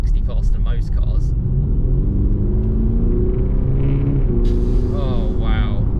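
A 2022 Audi SQ5 engine pulls hard while accelerating uphill, a loud, steady low rumble that climbs in pitch through the gears, with someone talking over it from inside the cabin.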